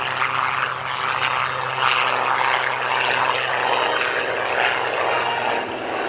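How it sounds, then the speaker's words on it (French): A steady droning Spitfire Mk XIX propeller engine hums loudly and continuously, with a slight pulsing throb throughout. "ce sont des avions."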